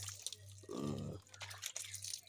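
Water trickling and dripping onto chilli pepper seedlings in a garden bed, a short soft splash over a steady low hum, fairly faint and close.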